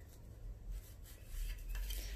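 Soft plastic scraping and clicking as a lid is twisted back onto a small container, quiet and close, a few brief friction sounds in a row.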